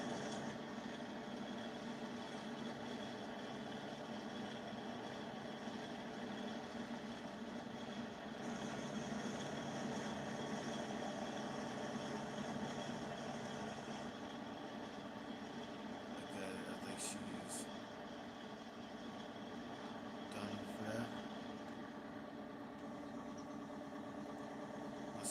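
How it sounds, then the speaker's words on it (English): Tractor engine idling in Farming Simulator 2019, a steady droning hum with layered tones that runs unbroken throughout, with a few faint clicks and a voice over it. "See the fan running. You can tell the engine is running."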